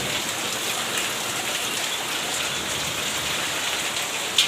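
Heavy rain pours down steadily on a poor family's home during a downpour in Gundlupet taluk, Chamarajanagar district, a dense, even hiss of drops on surfaces throughout, with one brief louder splash near the end and no talk.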